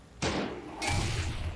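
A mortar blast in the video game Far Cry 6 lands as a sudden heavy thud, then a second broad rumbling impact follows, moderately loud and without talk.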